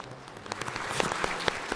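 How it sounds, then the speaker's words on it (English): Light, scattered clapping from an audience at a plenary session as city district award winners are announced, soft and somewhat distant with a few sharper individual claps. "Your applause."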